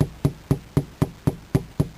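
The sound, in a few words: hammer tapping RV window back onto its frame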